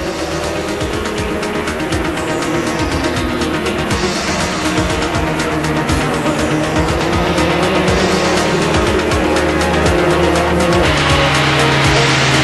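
British Formula 3 race cars from 1992 battle wheel to wheel toward a chicane, engines screaming loudly and continuously with rising and falling pitch as they run close together.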